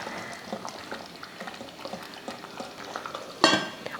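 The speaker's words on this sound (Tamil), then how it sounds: "நல்லா கொதிக்க ஆரம்பிச்சிருச்சு பாருங்கள். இப்போ மறுபடியும் ஒரு கிளறி விட்டுறலாம்" Boiling biryani being stirred in a pot, with a steady bubbling simmer, soft scraping stirs throughout and a louder clattering burst of stirring near the end; no talking.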